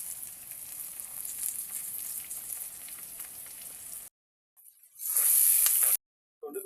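Onion and tomato frying in a pan, a close, steady crackling sizzle for about four seconds, then a sudden louder hiss after a short break before cutting out again.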